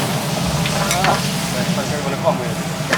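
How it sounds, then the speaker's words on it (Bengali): Radish and potatoes stir-frying in a pan for a shrimp and radish curry, a steady close sizzle with scraping stirs throughout and faint talk under it. "লবণ দিয়ে দিচ্ছি মূলা কষাবো আলুর সাথে"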